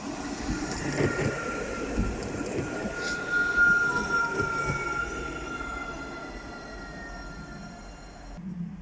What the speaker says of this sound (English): 223 is departing with a Nottingham Express Transit service to Clifton South